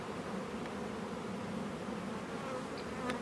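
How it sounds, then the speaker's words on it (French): Honeybees swarm over both sides of a beehive frame during an autumn hive inspection, producing a dense, continuous buzzing close up. "Il y a des abeilles recto verso, donc je le laisse, je le mets en rive."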